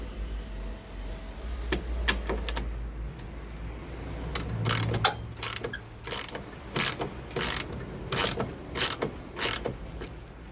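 A 10mm socket ratchet undoing bolts on a car part, rapid clicking pawl bursts in uneven runs, close and fairly loud, with short pauses and some low rumble beneath.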